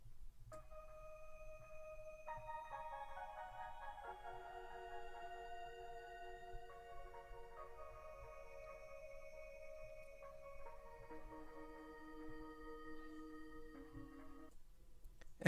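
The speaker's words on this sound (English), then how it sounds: "So the pad sounds like this." A soft synth pad holds sustained chords on a jazzy sample, changing gently every few seconds, faint and smooth over a low hiss with no voices.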